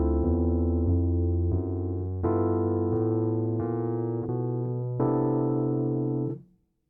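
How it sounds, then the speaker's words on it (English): A walking bass line on piano, one sustained low note after another in a steady stepwise pulse with chord tones ringing above, played alone and clear for several seconds before fading. "So that whole bass line would sound like this."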